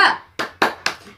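Rhythmic 'tepuk semangat' group hand clapping, a quick sequence of four sharp, close claps in an even pattern, each ringing briefly before the next.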